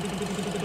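A BMW X1 engine, just back together after a valve cover gasket replacement, runs at a steady idle with a close, even low drone and a faint rhythmic pulse, with no voices over it.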